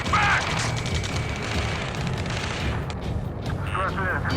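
Gunfire and explosions in the combat flight game Ace Combat 7, a dense, continuous roar of shots and booms with radio chatter mixed in.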